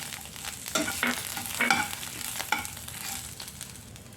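Dry prawns and other powder ingredients with tamarind are fried and stirred in a pan, with repeated scraping stir strokes over a continuous soft sizzle, close and alone.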